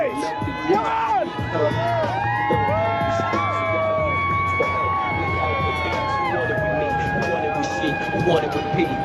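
A parade crowd cheers on passing runners, with whoops, shouts and children's high-pitched yells overlapping in a loud, lively outdoor roar that carries on throughout, mixed with close talk.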